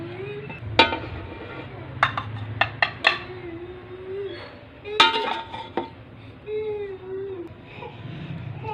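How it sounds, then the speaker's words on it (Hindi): Cooked whole masoor dal and rice being dished out into a pot with metal utensils: several sharp clinks and scrapes of spoon against metal, spaced irregularly over a low steady background hum, fairly close. "तो अब हम इसे डिश आउट करते हैं, एक बर्तन में निकालते हैं"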